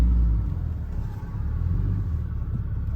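A car drives around at low speed, a steady close engine rumble with a slight swell at the start and no talk.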